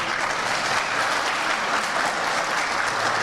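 Sustained applause from an audience at a political party's youth-branch iftar gathering, steady and dense throughout with no voices standing out.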